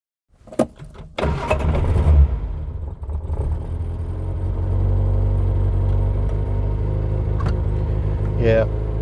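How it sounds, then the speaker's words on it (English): A Reliant Fox with its 850cc all-alloy four-cylinder engine starts and drives with a slight exhaust leak, cranking and catching before settling into a steady close-up rumble that rises under acceleration. "bit of an exhaust leak on Foxanne's 850cc all alloy 4-cylinder engine, which was Reliant's own engine"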